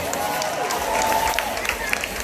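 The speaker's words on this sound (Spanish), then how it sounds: "Aplauso, mi gente." Audience applause at a cosplay parade at a fan expo in Puerto Rico, a steady crowd clapping with scattered cheers, moderately loud and continuous.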